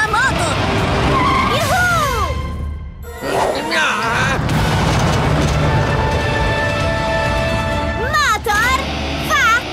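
A cartoon motorbike from the Italian-dubbed Rubble & Crew roars loudly with skidding and squealing tire sweeps, while excited animated character voices talk over it.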